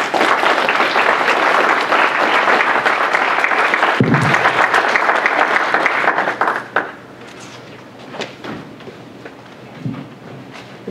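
Audience at a poverty and child welfare forum applauds the presenters with dense, loud clapping for about seven seconds, then it tapers off into scattered claps and quiet room noise.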